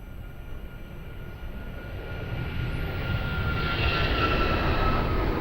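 A fixed-wing airliner takes off at Lisbon Airport, its engine roar a broad, steady rumble that swells gradually louder as it builds power, heard from a distance with no voices.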